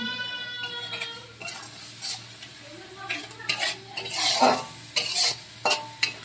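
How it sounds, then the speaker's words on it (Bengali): Spice paste sautéing with a little water for a pangas fish curry, a quiet sizzle under bursts of a spoon stirring and scraping against the pan, growing louder and more frequent toward the end. "এরপর আমি সামান্য অল্প জল দিয়ে মশলাটাকে ভালো করে কষিয়ে নেব।"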